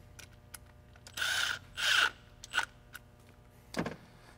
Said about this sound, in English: We'll go ahead and tighten this guy too.